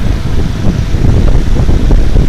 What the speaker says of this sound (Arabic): صوت الهواء